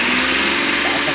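An engine runs steadily right after starting, following a fix to its timing for a hard-start fault, with a loud, continuous mid-pitched drone close by.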